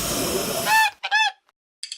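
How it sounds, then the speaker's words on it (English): A cartoon goose honks in short nasal blasts after a burst of hissing noise, the honks loud and close with a brief pause between them. "A goose."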